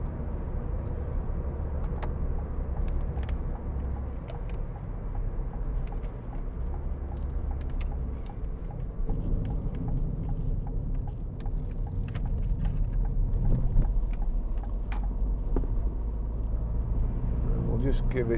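A 2012 Ford Fiesta 1.4 TDCi diesel drives on the road with a steady low engine rumble and tyre noise heard from inside, building slightly in the second half, with someone talking over it.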